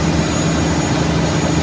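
A bangka outrigger boat's engine drones steadily at speed 28, a loud continuous low rumble with a broad roar above it and no pause across the stretch.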